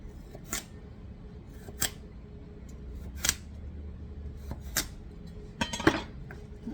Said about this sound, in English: cut them lengthways. and then cut them in 1-inch pieces